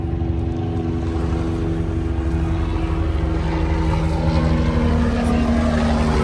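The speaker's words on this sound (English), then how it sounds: "They got a helicopter." A helicopter drones overhead outdoors, its steady low engine and rotor hum filling the clip without pause at a fairly loud, constant level, with no talk.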